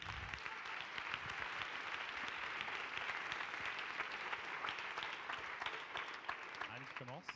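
Audience applause at a French women's parliament session, steady dense clapping through the whole stretch with no pause, voices starting to speak over it near the end.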